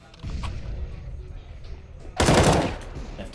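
AWP sniper rifle shot in CS:GO during a competitive match, a single loud sharp blast late in the clip after muffled game sounds.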